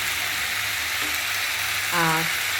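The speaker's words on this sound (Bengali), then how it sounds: "ভালো করে আমি কষিয়ে নিচ্ছি" Spices sautéing in a pan, a dense, even sizzle throughout with a brief tonal squeak near the end as they are stirred.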